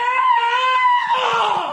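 A man imitates his own panicked yell as a charging Bruce Lee kicks him, a loud, sustained, high-pitched scream lasting under two seconds that wavers and breaks into a strained whimper at the end.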